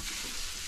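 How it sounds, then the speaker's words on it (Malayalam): Prawns frying in hot oil for a prawn curry give a brief, even sizzling hiss, close by and on its own with no voices. "ഇതൊന്ന് വറുത്തെടുക്കണം അല്ലേ?"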